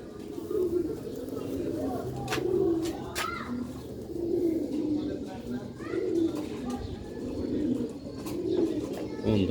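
Rooftop pigeons coo in repeated soft, low rolling calls, close by and continuous, with a voice talking over them.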